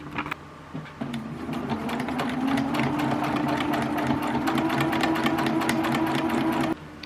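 A sewing machine stitches a short line along a blazer collar, running at a steady, continuous hum with a fast mechanical patter from start to stop, loud and close with no talking.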